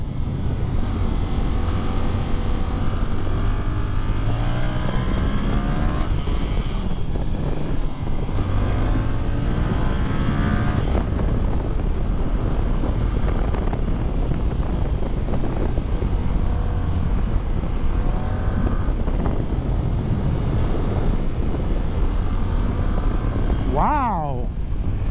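Yamaha Tracer 700 motorcycle from 2020 ridden hard on the road, engine droning steadily with rising and falling revs under heavy wind noise throughout, a short sharp rev near the end.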